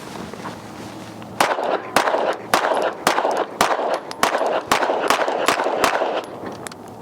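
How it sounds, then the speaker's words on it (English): Pistol shots from a Roland Special Glock ring out in a rapid string of about a dozen sharp, loud cracks, spaced roughly evenly over several seconds, with no talking. "All right, Gil, first rounds, go for it, bud."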